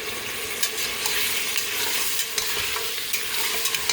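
Meat for aloo gosht frying and being stirred in a pan, a constant close sizzle with scraping stir strokes every second or so, no voices.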